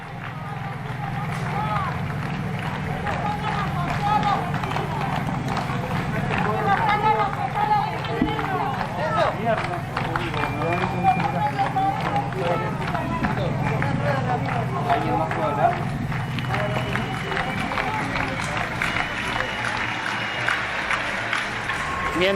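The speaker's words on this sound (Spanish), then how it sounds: "Los aplausos de las 9 de la noche que se mezclan con los aplausos de protesta de los médicos" Dense, sustained clapping from many people at 9 pm blends with applause from a doctors' protest, steady and loud throughout, with crowd chatter and voices mixed in.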